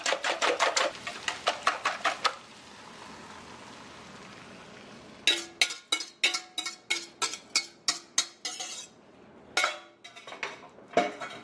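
Rapid rhythmic clinking of a utensil whisking eggs, vegetables and salted cod in a bowl for a plantain frittata, in two close bursts split by a quiet pause, with a few scattered taps at the end.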